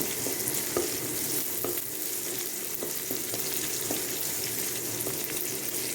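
Curry leaves dropped into hot oil in a pan, a steady close crackling sizzle with small pops throughout and no talking.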